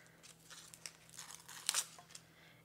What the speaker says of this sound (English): I'm just going to take the paper off the shallot here.